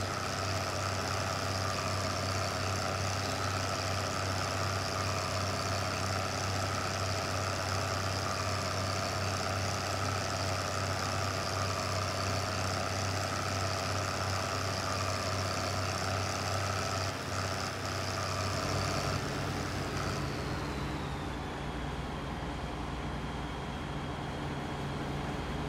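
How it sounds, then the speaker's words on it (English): A tractor engine in Farming Simulator 2013 drones steadily at a constant idle-like hum for a long stretch, then its tone shifts and drops slightly near the end as it keeps running. "Go and start the old engine up."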